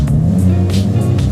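Several cars run together out on an ice surface, their engines droning loud and steady with slight rises and falls, no voices over them.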